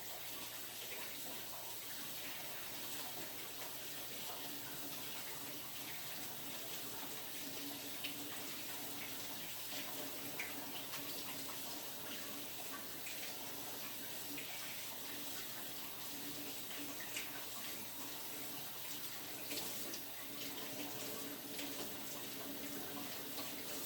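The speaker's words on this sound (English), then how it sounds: "Let me wash my hands." A kitchen tap runs steadily while hands are washed under it, giving a continuous, fairly soft stream of splashing water with small variations in the flow and no talking.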